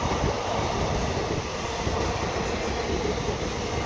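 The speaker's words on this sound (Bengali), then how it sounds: "দেখি ট্রেন একটা গেল," A train runs past at a station with a steady, loud rumble of wheels and carriages that holds evenly throughout, with no voices.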